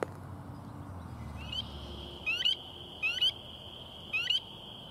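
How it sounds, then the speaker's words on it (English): Spring peepers call near a pond, several high, rising chirps arriving in short clustered bursts at a moderate distance over a soft outdoor background hiss. "I can hear these spring peepers right here"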